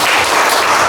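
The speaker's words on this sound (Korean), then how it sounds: "오늘 큰 박수로 강정원 선생님을 모시겠습니다" Audience applause welcoming a lecturer to the stage at a talk on the unification economy. A dense, steady wash of clapping fills the whole brief moment, with no voices.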